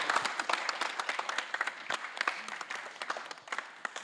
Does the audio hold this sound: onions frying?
no